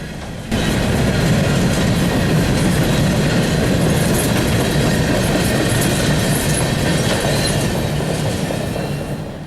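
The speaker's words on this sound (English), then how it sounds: "we saw this CSX train coming towards the crossing" A CSX freight train rolls past a road crossing with a loud, continuous rumble and rattling clickety-clack of wheels, heard close for the whole stretch, with faint high squeals over the roar.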